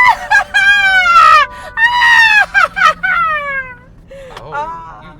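A woman imitates a witch's cackle, letting out loud, shrill, quavering bursts of laughter-like cries in rapid succession, close to the microphone, tapering off into softer chuckles at the end.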